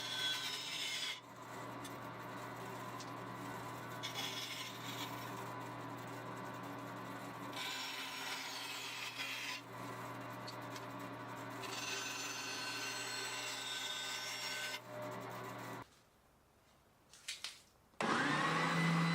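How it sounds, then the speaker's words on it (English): Bandsaw trimming extra wood from a scratch-built guitar: a continuous motor whine with cutting noise fills most of the clip, then drops away briefly near the end before starting again. "back to the bandsaw yet again, and I'm going to remove that extra material."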